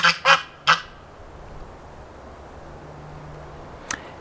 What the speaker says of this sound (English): Whose idea was it to get geese?